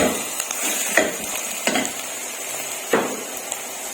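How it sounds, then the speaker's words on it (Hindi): Cumin and minced meat stirred into softened onions in a hot pan, with a constant sizzle under several sharp scraping strokes of a spoon against the pan, no talking. "अब हम इसमें 1 चम्मच जीरा डालेंगे, उसको हल्का सा हिला के मिक्स करेंगे और साथ ही इसमें हम कीमा डाल देंगे।"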